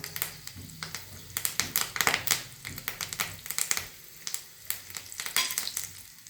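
Curry leaves and spices crackle and sizzle in hot oil for a tempering for dahi vada, with a steady close frying hiss broken by sharp popping spatters throughout.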